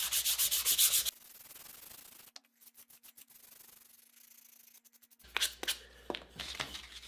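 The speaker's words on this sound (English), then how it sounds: "It's final smoothing," Cherry wood spurtle hand sanded with 150-grit paper, brisk rubbing bursts at the start and end with quieter scratchy strokes and a faint hum between, close and alone.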